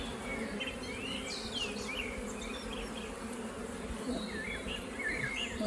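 Honey bee colony at a zoo hive, with a steady close buzz of many bees and individual bees darting past, plus faint birdsong in the background; no talk.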